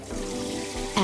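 Rice being rinsed in water with a steady running-water wash, close and continuous, with a brief louder splash at the very end.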